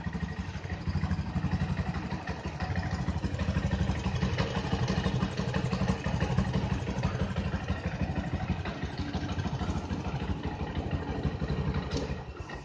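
A Yamaha Jupiter MX 135 motorcycle engine idles roughly after four years of use, a close, steady, uneven chugging with clattery pulses that continues throughout without talk.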